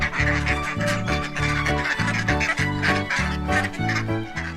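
A cartoon duck quacks over and over in quick, rhythmic bursts, loud and close, with music running underneath.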